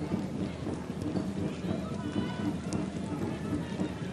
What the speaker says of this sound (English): Rain getting heavier and heavier.